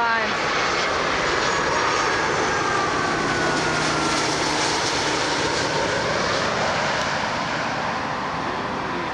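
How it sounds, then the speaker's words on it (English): An Air Canada airliner landing at Toronto Pearson, its engines producing a loud, continuous roar that holds steady and close for the whole stretch. "Yes, Air Canada. It's a very smooth landing."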